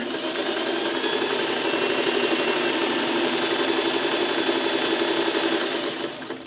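A sewing machine stitching quilt crumb blocks gives a close, steady, fast mechanical whir that runs unbroken for several seconds and then winds down at the end.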